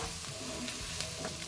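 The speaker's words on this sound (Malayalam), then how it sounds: "വറുത്ത് ക്രഷ് ചെയ്ത് വെച്ചിരിക്കുന്ന ഫിഷാണ് ഞാനിവിടെ ചേർക്കുന്നത്." Fried, crushed fish is stirred into a pan for fish fried rice, giving a soft, faint sizzle with light scraping stir strokes throughout.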